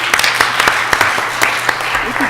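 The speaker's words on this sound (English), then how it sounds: "How about a round of applause for that" Audience applause at a city council meeting, a steady burst of clapping with sharp individual claps throughout, fairly close and loud, with a faint voice near the end.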